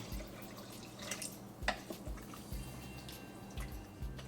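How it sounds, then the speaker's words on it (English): Water pours into an Instant Pot while khichdi is being made at home, heard as close, quiet drips and splashes with a few low thuds, and no voices. "Now we'll add a total of 6 cups of water to the Instant Pot."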